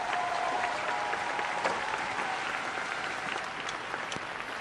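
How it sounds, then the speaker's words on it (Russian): Audience applause at an ice show honoring Olympic champions, a steady wash of clapping from a large crowd, moderately distant and even throughout. "Вновь ваши аплодисменты мастеру спорта международного класса по художественной гимнастике Анастасии Гузеньковой."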